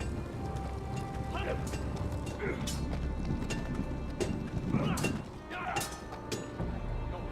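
Hooves clip-clop faintly as a horse moves in the Game of Thrones video game, with scattered soft thuds under ambient game sound, while voices talk over it.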